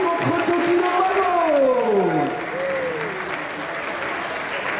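Crowd at a Street Fighter 5 team tournament final at Stunfest 2016 applauds loudly, a dense sustained clapping that eases slightly after a few seconds, with an announcer's voice sliding over it.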